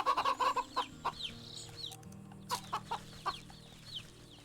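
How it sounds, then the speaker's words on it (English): Hen clucking in the video game Wytchwood, a run of short close clucks at first, then sparser softer clucks over a low background music bed. "Chicken, a plump and happy hen."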